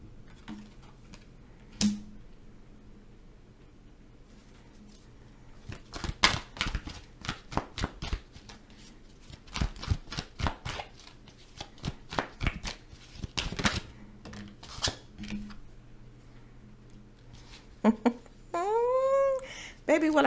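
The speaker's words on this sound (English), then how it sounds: "I'm going to pull some more cards here," Tarot cards being pulled and shuffled by hand, a run of quick, irregular close riffling snaps and flicks, with a voice murmuring briefly near the end.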